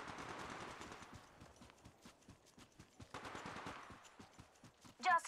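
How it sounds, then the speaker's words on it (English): Rapid game gunfire from Apex Legends, a steady stream of sharp close shots in two bursts, with a louder crack right at the end. "Listen up, I'm getting shot at."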